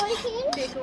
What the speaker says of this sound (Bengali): তো আমি সার্ভ করছি এখন ফ্রাইড রাইস